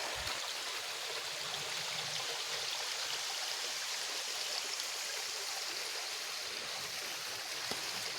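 Creek water rushing and babbling over rocks at Bridal Veil Falls, Tinkers Creek Park, Bedford, Ohio, a steady, close, continuous hiss with no voices.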